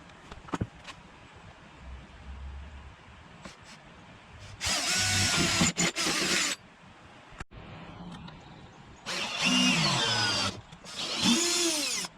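Power drill boring holes through armor panels on a Jeep Cherokee XJ during a tire carrier install, several loud sustained whining bursts of a few seconds each, separated by pauses with faint handling clicks.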